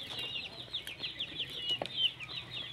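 Chickens on a farm clucking repeatedly in a steady, fairly close chatter, with several birds overlapping in a continuous high-pitched murmur and no talking.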